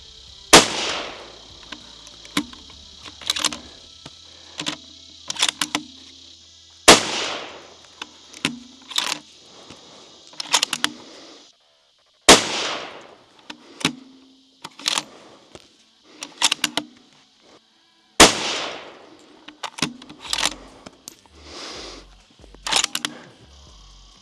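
Shots fired from a rifle loaded with reloaded brass crack out one at a time at spaced intervals outdoors, each a sharp report with a ringing decay, followed by small metallic clicks between shots.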